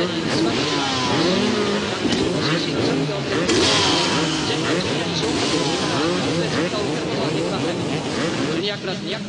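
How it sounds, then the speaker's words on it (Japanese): A 250cc motocross motorcycle engine at a race, starting and warming up, with loud continuous rough revving that rises and falls throughout, close by, with a voice talking over it. "エンジンがかけられます。エンジンのウォームアップが行われます。"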